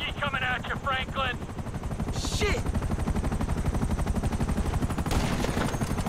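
A police helicopter's rapid rotor chop throbs loudly and steadily in Grand Theft Auto V, with bursts of gunfire cracking over it near the start and again toward the end.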